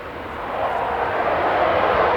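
A Belgian Air Force F-16 fighter jet rolls out for takeoff at an air show, giving a steady, broad engine roar that swells slightly louder over two seconds, heard from a moderate distance with no talking.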